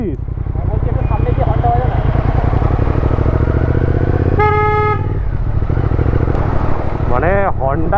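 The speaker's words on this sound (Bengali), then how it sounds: "হর্নটা লাগানো হয়ে গেছে, শোনাচ্ছি।" Horn of a Triumph Speed Twin 1200 motorcycle sounding in one loud, sustained blast of about half a second, followed later by a shorter toot, over steady engine and road noise with someone talking throughout.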